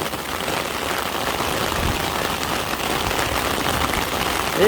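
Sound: heavy rain falling while fishing

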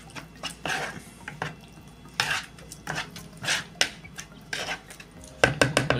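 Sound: stirring veg keema mixture with tomatoes and water

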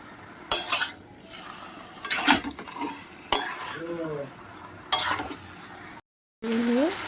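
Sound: sautéing mutton with spices in pan

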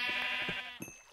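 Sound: sheep bleating in Minecraft video game

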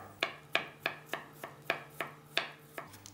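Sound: knife slicing fresh young ginger into thin julienne slices

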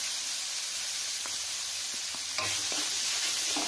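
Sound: stirring and roasting garam masala in a pan

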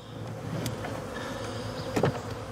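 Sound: honeybees leaving package box into horizontal hive

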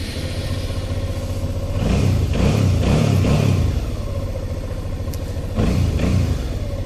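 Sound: Suzuki V-Strom 650 motorcycle engine starting and revving

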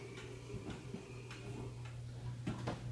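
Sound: ticking of an antique Black Forest hunter cuckoo clock

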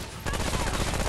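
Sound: rapid-fire gunshots in video game Remnant

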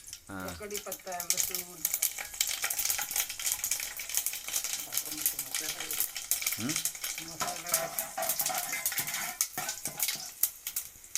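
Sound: mustard seeds sizzling in oil while frying mackerel

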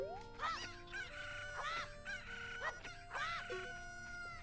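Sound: chicken clucking in Zelda Ocarina of Time video game

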